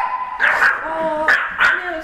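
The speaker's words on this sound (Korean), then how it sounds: "살짝 과하다 싶을 정도로 짖는 것 외엔 별다를 게 없어 보이는 녀석들" Several dogs bark loudly and close by in sharp, yipping bursts, some with whining tones, roughly four clusters across two seconds.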